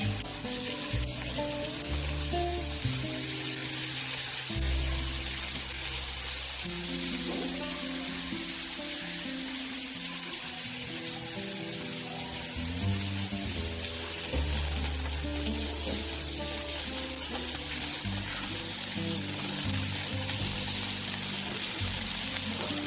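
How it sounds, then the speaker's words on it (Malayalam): Fish fries in a pan of oil in a home kitchen, giving a steady, close crackling sizzle that runs unbroken for over twenty seconds with occasional stirring clatter. "നമുക്കൊന്ന് വറുത്ത് കോരിയെടുക്കാം"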